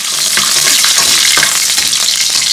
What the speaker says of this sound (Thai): แล้วเราก็จะ ผัดด้วยซอส ผัดไทยของเรานะคะ